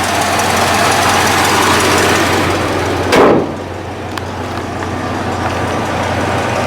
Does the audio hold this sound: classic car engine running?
yes